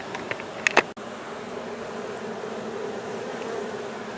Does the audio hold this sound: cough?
no